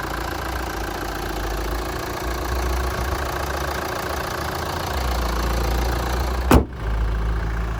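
A 2013 Kia Sportage Platinum diesel engine idles smoothly with a steady, close mechanical drone and no knocking, broken near the end by a single brief thump.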